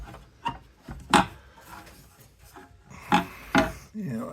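Scraping gobs of old silicone off a small engine edger during carburetor repair: soft, irregular rasping strokes close up, quiet with occasional sharper scrapes.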